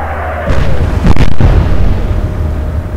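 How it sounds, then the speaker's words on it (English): A secondary explosion tears through a warship in the naval strategy game Atlantic Fleet, set in the Battle of the Atlantic. A loud booming blast rolls out, then a sharper, louder burst hits about a second later and a long rumble trails off. "Secondary explosion now."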